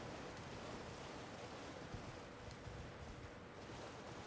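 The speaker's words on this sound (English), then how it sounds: "A lot of waterfalls around here." A waterfall in the game Elden Ring gives a faint, steady rushing wash of falling water, even and unbroken with no voices.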